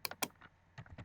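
Keys tapped on a computer keyboard while typing into a web browser, a handful of quick, light clicks in two short clusters, close and quiet, with no one talking.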